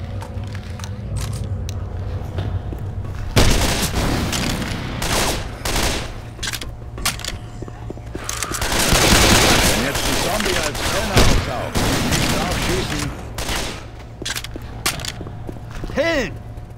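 Bursts of automatic and single gunfire from Left 4 Dead 2 crackle repeatedly at close range, with a heavy volley in the middle, while in-game characters shout over the shooting.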